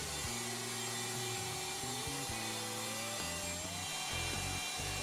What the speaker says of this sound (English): With the jig clamped in place, the pinboard is routed.